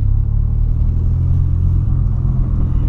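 A VW Polo with a 1.6 engine drives uphill, its engine giving a loud, steady, close low rumble that holds constant throughout with no voices.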